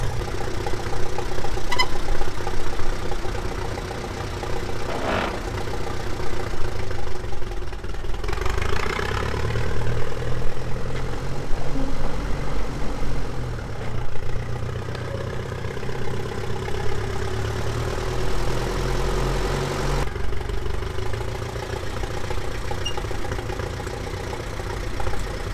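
A tractor fitted with new brake shoes and drums idles with a steady, mid-low mechanical rumble that wavers slightly in level, close by with no talking.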